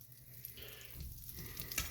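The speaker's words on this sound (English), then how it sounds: "the butter is dissolving very readily, so that's another good sign that the pan is a good temperature" Butter melting and sizzling in a hot pan, a soft steady frying hiss close by with no talking.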